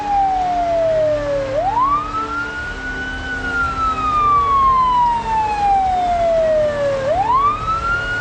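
Wailing ambulance siren in the video game Project Zomboid, two long sweeping rise-and-fall cycles, loud and steady over a low rumbling background with no talk.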